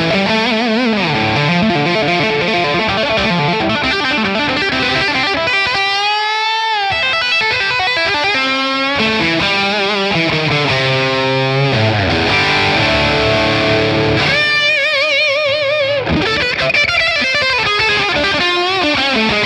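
An electric guitar through a Friedman PLEX amp capture, set bright with all controls on 10, plays an 80s-style distorted riff with reverb, loud and continuous with ringing sustained notes and fast runs, alone without voices.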